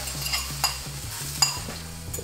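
Beaten eggs go into a hot pan for salted egg fried rice, frying with a steady sizzle while a utensil stirs and scrapes in quick, uneven strokes, close and fairly quiet with no voices.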